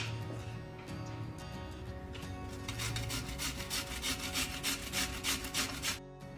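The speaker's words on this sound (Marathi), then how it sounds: "हे आता आपल्याला याला किसायचं आहे किसणीने तर आता आपल्याला हे किसून घ्यायचं आहे" A medium-sized peeled potato is rubbed across a hand grater in quick, rhythmic rasping strokes, close and fairly loud, ending with a brief pause.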